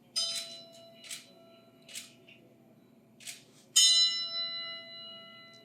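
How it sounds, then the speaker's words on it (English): A cast bronze harmonic bell is struck several times at uneven intervals, each strike ringing with bright sustained harmonic overtones, the final strike louder and lingering. "lo and behold, you get yourself a harmonic bell."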